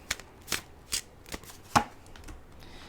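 Tarot cards are handled and drawn from a deck, giving a few crisp, close snaps and riffles spaced about half a second apart over a quiet background.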